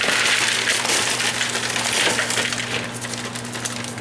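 Ore-Ida frozen potatoes tumble into a regular mixing bowl, a loud dense rattling cascade of hard frozen pieces that gradually thins out over a few seconds, close up.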